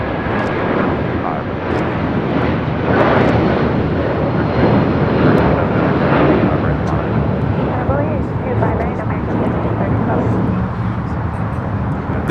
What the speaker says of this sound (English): This is United Airlines Flight 1331 taking off to Newark on a 757-200.